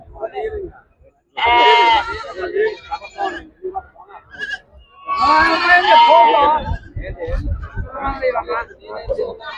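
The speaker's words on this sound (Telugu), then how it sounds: "మీకు తెలుసా ఎన్ని మేకలు ఉన్నాయి" Goats bleat loudly in several bursts close by at the Nandigama goat market, with a murmur of people in the background.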